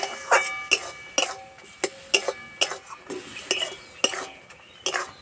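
A spoon stirs a raw-tomato dish in a metal pan, making about a dozen sharp clinks and scrapes in an uneven rhythm, close and fairly loud over a quiet background.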